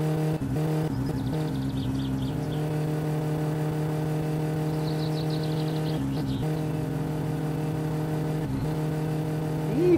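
Car engine in My Summer Car held at a steady high drone against the rev limiter for the whole stretch, loud and continuous with brief cuts and a rising whine near the end.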